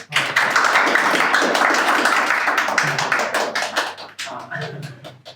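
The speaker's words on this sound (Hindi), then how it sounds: "भाई ताली बजा दिया करो" Audience clapping at a live poetry performance in a studio, dense and fairly close, sustained for several seconds before thinning out into scattered claps at the end.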